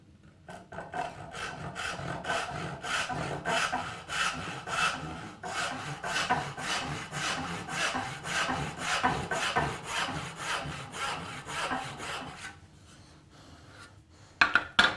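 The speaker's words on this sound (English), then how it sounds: "Whatever the distance under the back is of that dovetail saw, that's how deep I'm cutting that kerf." Dovetail saw cutting a shallow wedge kerf in wood during assembly of a perch stool, a steady run of rhythmic rasping back-and-forth strokes, close and loud, that stops near the end followed by a couple of sharp knocks.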